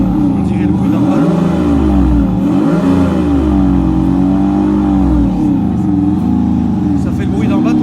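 A Range Rover Sport Startech with a special option revs its engine loudly and steadily, a deep, burbling, boat-like drone rising and falling in waves, with people talking over it.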